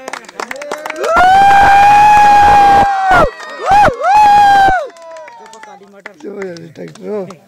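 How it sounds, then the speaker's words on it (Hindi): A crowd at an outdoor trophy presentation, where a team captain is called to the stage for the winner's trophy, bursts into clapping and cheering with loud, whistle-like shouts in short bursts before settling into scattered voices. "तालियां"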